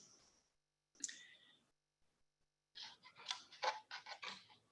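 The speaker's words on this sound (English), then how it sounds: "I'm typing in the name of the sutta." Soft, quiet clicks of typing on a keyboard, a short burst and a brief tap followed by a faster run of keystrokes, heard close and alone in a quiet room.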